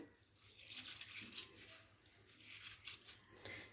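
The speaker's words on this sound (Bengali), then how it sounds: "নাড়াচাড়া করে চালটাকে খুব ভালো করে ফ্রেশ করে ধুয়ে নেব" Rice for chicken biryani is being rinsed in water, with soft splashing and swishing bursts as the grains are stirred by hand, fairly quiet and close.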